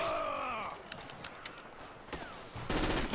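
Gunfire in the World War II shooter Forgotten Hope 2: a short burst of distant shots with sharp cracks over ambient battlefield noise, ending in a louder close rattle of fire.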